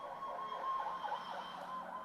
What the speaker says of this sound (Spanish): ambulancias